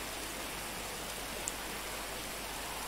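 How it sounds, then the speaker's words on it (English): Steady rain hisses down in GTA V, an even wash of falling drops heard alone, soft and continuous with one tiny click partway through. "You haven't been sitting out here in the rain for too long."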